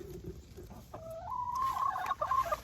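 A chicken clucks and squawks nearby in a mobile suburban backyard coop, a short rising series of calls growing louder over soft background noise.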